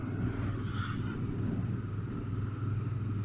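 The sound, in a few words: Royal Enfield Interceptor 650 motorcycle riding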